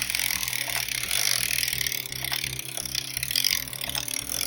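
A sock knitting machine cranked steadily, its ratcheting mechanism clicking in a continuous, even rhythm, loud and close throughout with no talk.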